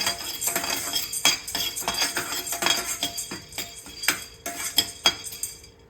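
Sorghum grains stirred in a hot frying pan give off repeated scraping clinks of a utensil against metal, an irregular, fairly close rhythm lasting throughout with no talk.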